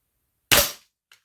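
A single sharp crack from a Northernaer break-barrel air pistol firing a pellet, close and loud, decaying quickly, followed by a faint brief tick.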